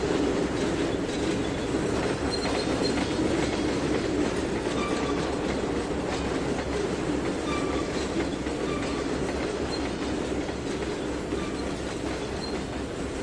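A steady, loud rumble of a moving video game train in Trainz 2019, with rhythmic clatter of wheels on track and faint squeals, continuous throughout.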